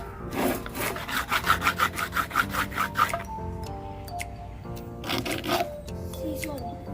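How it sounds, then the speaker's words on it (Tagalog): A plastic ruler scraped against a stone or grinder disc, giving loud, rhythmic rasping strokes in a quick run, a pause, then another burst of scraping. "kikiskisin natin dito sa bato o sa bala ng grinder"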